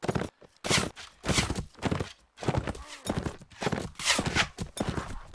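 Cavalry horses gallop and charge in the video game Mount & Blade Warband, loud rapid hoofbeats in bursts with brief gaps and a neigh partway through.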